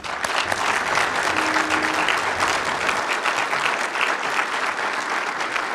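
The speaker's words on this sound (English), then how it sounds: "Let's give them a round of applause." Audience at a class ceremony breaks into sustained applause, a dense, even clapping from many hands that continues near and steady throughout, with a faint voice briefly underneath early on.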